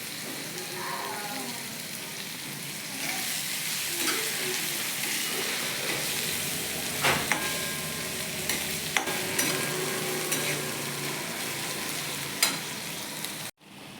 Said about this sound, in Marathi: आपण यात वांग्याचं भरीत टाकलेलं आहे। आता हे व्यवस्थित परतून घ्यायचं।